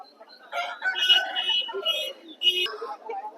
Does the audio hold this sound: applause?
no